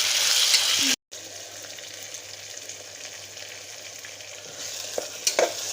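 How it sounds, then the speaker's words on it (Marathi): Tomatoes sautéing in a pan for chicken rice give a steady close sizzle with stirring scrapes, after a brief cut near the start and a few sharper clinks toward the end. "टोमॅटो पण आपल्याला चांगलं परतून घ्यायचंय"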